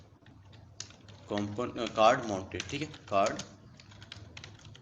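Code tapped out on a computer keyboard as a steady run of light clicking keystrokes under someone speaking Hindi, with the typing continuing faintly after he pauses.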